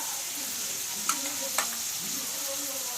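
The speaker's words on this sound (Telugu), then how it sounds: "మీడియం ఫ్లేమ్ మీద పెట్టుకొని ఆనియన్స్ వేయించుకోండి." Onions fry over a medium flame in a pan for a prawn curry, giving a steady close sizzle with a couple of faint stirring clinks and no voices.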